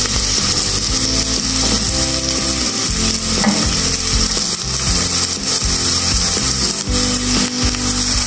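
Chopped onion frying in hot oil in a pan for Arabic lentil adas, a steady close sizzle with stirring scrapes and clatter throughout, no voices.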